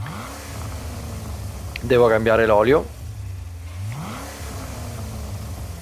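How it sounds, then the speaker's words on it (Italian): A Corvette LT1 V8 swapped into a 2015 Roadster S in Gran Turismo 7 revs in one short, loud, rising burst of about a second, with someone talking before and after it. "È molto strano sentire il rumore di un motore americano su una macchina così piccola."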